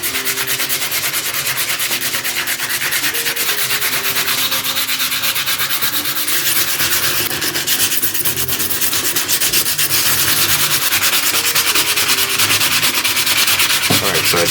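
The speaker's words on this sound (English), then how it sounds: "I'm gonna start out with the 80 grit, which is very coarse" Coarse 80-grit sandpaper scrubs steadily across faded plastic roof trim from a BMW E90/E92 3-Series, a loud, continuous gritty rasp with no talking.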